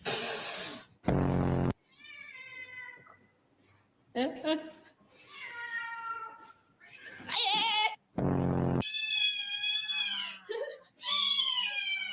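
A cat meows repeatedly at close range, drawn-out plaintive cries with some strained, caterwauling tones, alternating with a person's excited talking between and over the calls.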